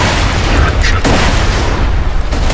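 Grenade explosion in the Borderlands 2 video game, a loud booming burst near the one-second mark within dense, continuous gunfire and game noise, with a voice talking over it.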